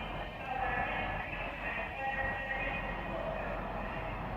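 A Class 175 diesel train departs Crewe station, its engine droning at moderate distance with steady rumbling and faint rail squeals, while someone talks over it.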